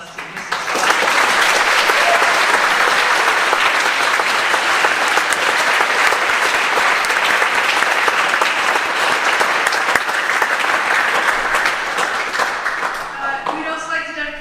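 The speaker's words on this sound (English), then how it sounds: "can we give one more round of applause to Mr. Scott?" Loud, sustained applause from the audience at a high school spring concert, a dense roar of clapping lasting over ten seconds that thins out at the end, with voices mixed in.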